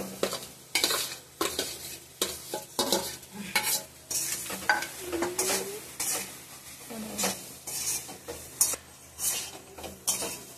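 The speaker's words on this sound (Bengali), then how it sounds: "এবার ভালোভাবে মিক্স করে নেব।" Spiced potato filling for samosas is stirred in a pan, with repeated scrapes and clacks of a spoon against metal over a soft sizzle, steady and close, with no voices.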